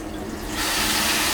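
Tap water runs steadily into a sink over a whole raw chicken being rinsed for soup, a dense, close splashing hiss that swells louder halfway through as the flow strengthens.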